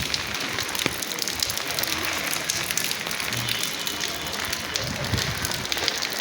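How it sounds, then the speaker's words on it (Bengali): A dense, unbroken roar of heavy rain drums on surfaces nearby, loud and steady throughout with no voices over it. "অনেক বৃষ্টি, অনেক।"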